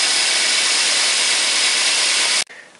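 Toyota Corolla VVT-i engine running with a new serpentine belt, a loud steady whirring hiss with a faint high whine that cuts off abruptly near the end and leaves a quiet tail.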